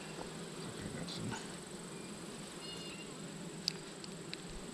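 A steady, low buzzing drone from honey bees around an opened hive holding dead bees, with a few sharper clicks and small knocks from handling the hive frames.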